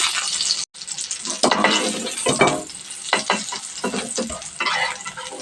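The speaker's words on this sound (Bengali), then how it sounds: "এখন ডিমগুলো ভাজতে দিয়ে দেবো, ভাজা হোক।" Hilsa fish roe fries in hot oil in a frying pan, a loud, close, continuous crackling sizzle with bursts of stirring.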